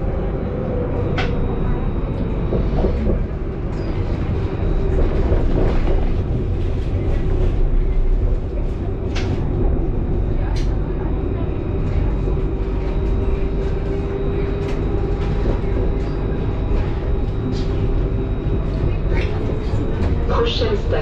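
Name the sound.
Mulhouse tram line 1 running on rails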